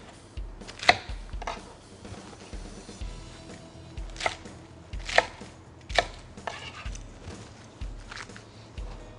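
A knife chops cabbage on a cutting board in a loose series of crisp cuts with short pauses, close and fairly loud.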